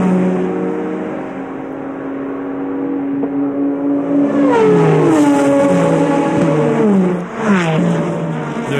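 Race cars roaring and accelerating during the 1997 Le Mans race, loud and close, their engine notes climbing and overlapping as several cars pull away together at full throttle.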